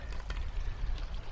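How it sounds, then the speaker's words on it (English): Water is scooped from a fast-moving stream near Lake Agnes in Banff National Park, a close, brief splash and gurgle over the steady rush of flowing water, with no speech. "I'm gonna scoop some up."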